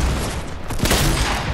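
A heavy shotgun blast in Fortnite, one booming shot roughly midway through a dense, noisy wash of game action, with no talking.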